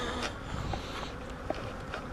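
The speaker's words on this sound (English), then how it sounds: "angry bees between your legs, pretty much" Agitated honeybees buzzing close by during a hive inspection, a steady droning hum with occasional louder passes of individual bees.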